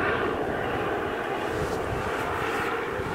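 A helicopter passes overhead, its rotor and engine forming a loud, steady roar with a low throbbing pulse that holds for about three seconds without fading.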